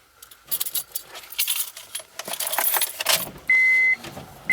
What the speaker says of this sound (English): let me get the keys